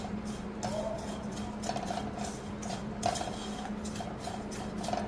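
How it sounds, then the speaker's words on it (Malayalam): A spoon stirs chili powder into a mixture in a pan, giving soft repeated scraping and light clinks at an irregular rhythm over a steady low hum, quiet and close. "ഇപ്പോൾ ഇത് രണ്ടും കൂടെ നന്നായിട്ടൊന്ന് ഇളക്കി കൊടുക്കും"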